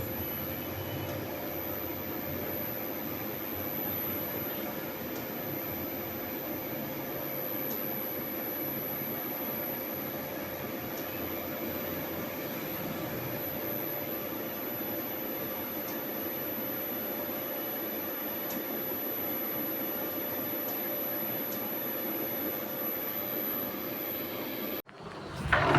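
An older non-inverter Haier 1.5-ton air conditioner, powered by a local Muxtronic inverter without a battery, gives a steady, even mechanical hum and airflow drone that ends abruptly in a brief clatter.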